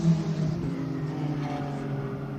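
An Acura NSX GT race car in a GT World Challenge America qualifying session at Virginia drones past on track, a loud, steady engine note with a slight pitch shift as it goes by.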